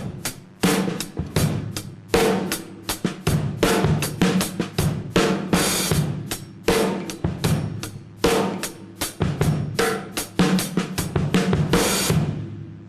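Drums pound out a syncopated rhythm with accents on beats two and four, dense repeated hits in a driving pattern that runs steadily, loud and close, before ringing out at the end.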